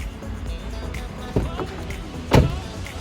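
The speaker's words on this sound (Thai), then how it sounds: "กดคลายล็อกกระจกก็จะกางออกนะครับ" A soft electric motor whirs briefly as a Lexus RX300's power-folding side mirror unfolds, followed by a sharper mechanical clunk, close up, with someone speaking over it.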